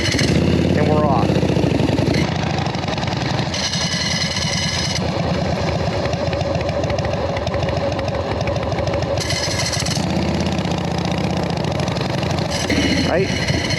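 A jockey-shift, foot-clutch motorcycle without a front brake idles, then its engine revs steadily as it is shifted into first gear and pulls away, running continuously and fairly loud for the whole stretch.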